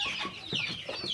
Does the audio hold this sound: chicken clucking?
yes